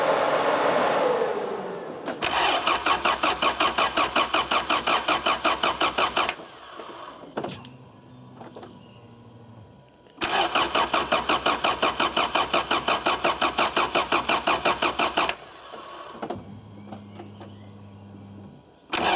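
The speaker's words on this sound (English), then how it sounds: "So first one, I'm just going to see if I can get some oil pressure." A Honda B18 engine with its distributor disconnected cranks over without firing, twice, each time giving a loud, steady rapid chugging that lasts several seconds. Quieter mechanical rattles and a low hum fill the gaps between the two bursts of cranking.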